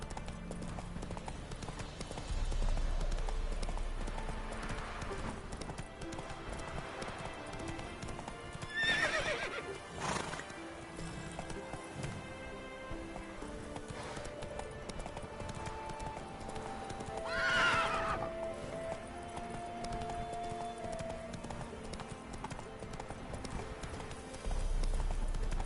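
Horse hooves clip-clopping at a gallop in The Witcher 3, with a couple of loud whinnies rising over a steady music bed and ambient game sound.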